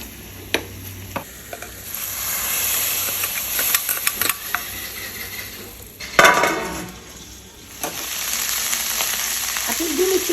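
Kashmiri chilli powder frying in hot oil as the base for a chicken roast gives a steady, close sizzle, with stirring scrapes and a few utensil clinks; no one talks.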